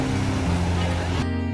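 Sea waves wash along the Kuwait seaside at night, a continuous loud roar of surf close by with a steady hum running underneath.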